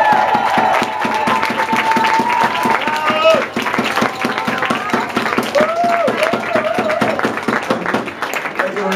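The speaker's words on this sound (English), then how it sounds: "Give him a big warm applause from South Africa" Audience applause at a Radboud University international orientation event, steady dense clapping from a large crowd that continues throughout with a little cheering mixed in.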